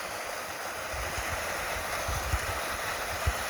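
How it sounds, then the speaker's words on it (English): Small waterfall splashing among rhododendrons beside a hiking trail, a steady broadband rush of falling water with a few low thumps, moderately close and heard alone without talk. "First little waterfall."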